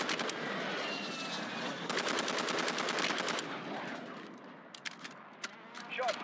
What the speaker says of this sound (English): Target acquired. Strike inbound.